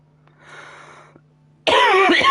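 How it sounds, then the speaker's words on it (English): A single harsh cough bursts out close and loud after a quiet stretch of faint breathing and room hum. "God, I can't stop coughing."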